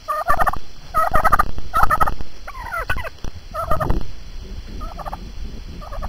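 Turkeys in a garden gobble again and again, the loud rattling calls coming in a string of closely spaced bursts, with a few overlapping cries and softer calls between them, and no talking.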